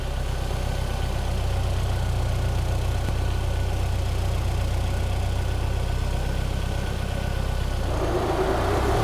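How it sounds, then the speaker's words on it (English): A car engine idles steadily while its electric cooling fan kicks back in, a constant low rumble with a fan whoosh layered on top, the tone shifting near the end as the idle rises. "Cooling fan kicks back in, idle goes up because it thinks that it's cold."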